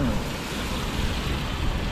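Strong typhoon wind roars steadily across a city street crossing, a dense broadband rush with gusty surges throughout and no clear voices.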